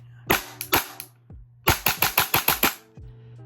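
An AP7 airsoft SMG with red splatter finish fires in semi-auto: two shots, a short pause, then a rapid run of about eight sharp snaps, loud and close with nobody talking.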